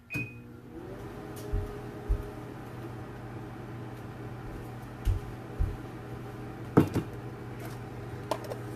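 Microwave oven running with a low, steady hum and fan whir, faint and continuous, with a few soft knocks and clicks scattered over it.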